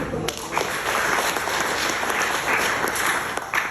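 Loud, dense applause from a church audience fills the space continuously, with sharper claps standing out near the end and a voice faintly under it.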